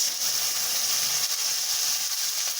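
Bitter gourd and potato pieces hit hot oil already tempered with cumin, fenugreek and panch phoron, giving a steady, loud hissing sizzle that holds evenly throughout without any talk.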